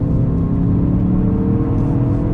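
A Ford Focus RS engine pulls hard under acceleration, heard from inside as a loud, steady low rumble and whir that holds strong with no talk over it.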